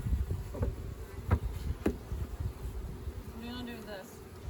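Honeybees buzzing while a swarm trap is moved into a new hive, a steady close hum with individual bees passing by the microphone, and people talking quietly in the background.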